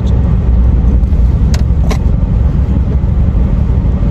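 Car driving along a road, a loud, constant low engine and road rumble from inside the vehicle, with a couple of faint clicks and no talk.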